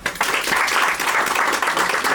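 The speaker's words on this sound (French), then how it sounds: "Bon, applaudissons." Wedding guests applauding together at a marriage celebration, a dense, even wash of clapping that holds steady for a couple of seconds with little talk.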